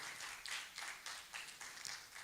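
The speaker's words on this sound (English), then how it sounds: "Please, a round of applause." Audience applause for conference panelists at a postgraduate health sciences conference, a steady patter of many hands clapping at moderate volume, with no voices over it.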